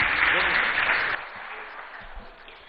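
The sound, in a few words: audience applause for a guest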